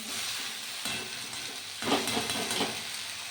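Water spinach sizzles and crackles in a hot pan, a dense frying hiss that briefly dips before flaring louder as the greens are stirred.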